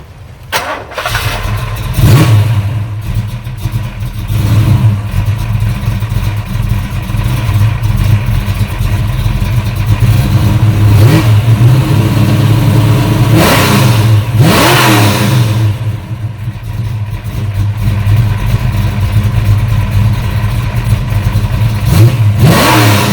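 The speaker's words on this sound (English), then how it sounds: "This would be a cold start, folks." A 1985 Mercury Capri RS V8 cold-starts and runs loud and close, settling into a rumbling idle broken by several sharp revs that rise and fall.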